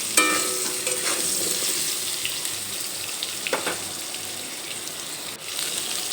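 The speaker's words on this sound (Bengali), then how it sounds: "এই তেলের মধ্যে আলু ভেজে নেব আলু দিয়ে একটু নেড়ে চেড়ে নিলাম" Potatoes frying in oil in a pan while being stirred, heard as a dense, close sizzle with scraping and stirring clatter in the first seconds, then a steady hiss with no voices.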